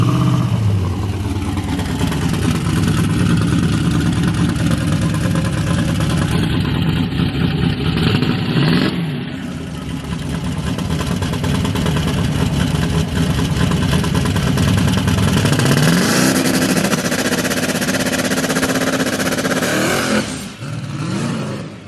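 An LS-swapped Mustang race car holds a loud, close, sustained roar on its two-step launch control, with the revs shifting and briefly dipping around the middle and again just before the end.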